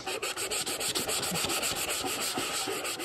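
Rubbing and sanding a metal tin to distress it, a continuous close rasping scrape with quick back-and-forth strokes in a steady rhythm, no voices.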